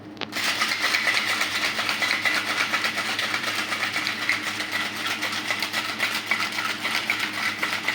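A container of bhut jolokia picante being shaken, producing a dense, continuous rattling swish that starts abruptly and holds steady and close for several seconds.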